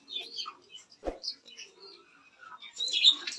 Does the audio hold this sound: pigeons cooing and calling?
yes